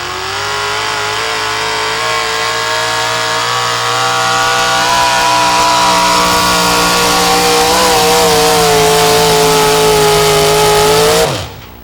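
Super stock gas pulling truck engine at a truck pull, revving loud and sustained through a full run with a steady rising whine and strong harmonics, cutting off abruptly near the end.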